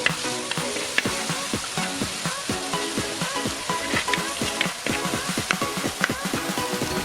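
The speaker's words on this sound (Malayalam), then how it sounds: "അതുവരെ നമ്മൾ ഇതേ കൂട്ടൊന്ന് വഴറ്റി കൊടുത്തുകൊണ്ടേയിരിക്കാം" Tomato masala mixture being sautéed in a pan for a mackerel chilli fish curry: continuous loud sizzling punctuated by a regular rhythm of spatula scrapes and taps, close up and with no talking.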